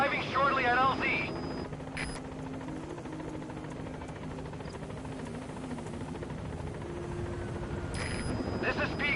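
A helicopter in the Metal Gear Solid V video game arriving at a landing zone, a steady rotor drone holding throughout, with a brief radio voice at the start and again near the end.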